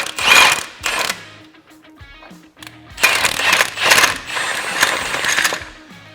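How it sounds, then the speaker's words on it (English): Impact wrench driving a socket onto a bolt on a Polaris RZR XP Turbo clutch, heard as two loud rattling bursts separated by a brief quiet pause with faint clicks. "We'll grab our socket and our impact. We'll just go ahead and tighten it up."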